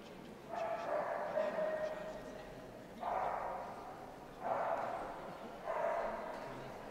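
A dog barks and yips in four separate bursts at a dog show, heard faint and at a distance across a hall with a murmuring crowd and low background chatter.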